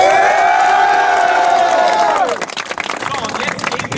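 A crowd cheers and claps at a draisine race on the Liliputbahn miniature railway in Vienna's Prater. A loud sustained whoop and shouting comes first, then scattered clapping and lively crowd noise.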